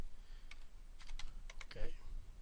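Quick, soft keystrokes on a computer keyboard sound in short bursts, faint and close, with small pauses between clusters of clicks.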